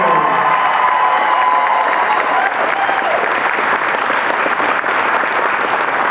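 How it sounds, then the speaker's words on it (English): A crowd at a Tokyo in Tulsa cosplay event applauds the hall cosplay winners, a loud, sustained wash of clapping with scattered cheers throughout. "let's get a round of applause for our Hall Cosplay Winners!"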